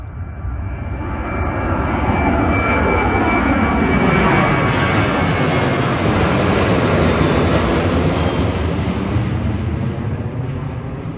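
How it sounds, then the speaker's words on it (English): A Southwest airliner takes off from runway 1 at DCA, National Airport, a loud continuous jet engine roar that swells and holds, close by and alone with no talking. "There we go, southwest. Taking off into the north."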